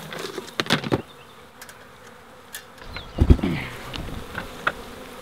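A swarm of wild bees buzzes around in the open, with insects darting close past in loud passing drones among fainter background buzzing.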